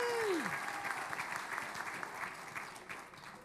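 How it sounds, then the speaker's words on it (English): An audience at a dance show event applauds, moderate and fairly distant, with the clapping gradually thinning, while a voice briefly speaks at the start. "Let's give them another round of applause."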